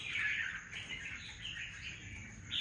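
Red-whiskered bulbuls, trapped fighting birds, keep up a continuous thin chirping and twittering, fairly faint, with no voices.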